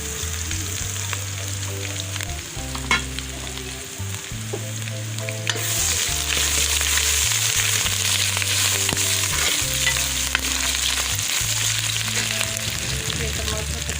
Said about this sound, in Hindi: प्याज फ्राई हो गया, अब मैं लहसुन अदरक पेस्ट शामिल कर रही हूँ।